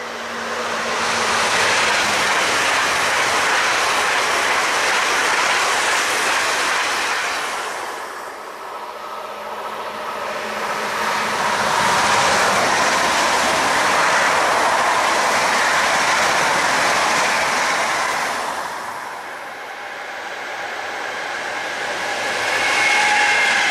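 An ICE high-speed train passes on the Augsburg–Munich line near Althegenberg, a loud, broad rushing roar with wheel and rail noise that swells, eases briefly and builds again as the carriages go by.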